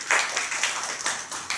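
An audience at a public talk claps together in a short round, dense and fairly even patter of many hands in a hall, heard on its own without voices.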